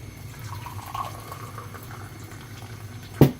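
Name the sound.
Thai tea poured between cups to aerate it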